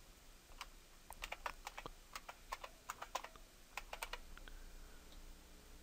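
Keys clatter on a computer keyboard as a username and password are entered, a quick irregular run of close, crisp clicks in small bursts over a quiet room hum.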